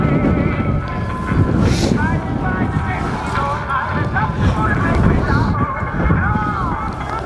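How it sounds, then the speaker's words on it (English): Strong wind buffets the microphone at Crimond Raceway in Scotland during a stock car and caravan destruction derby, a steady loud roar throughout, with talk partly heard beneath it. "Oh, that wind though. That's a nasty wind."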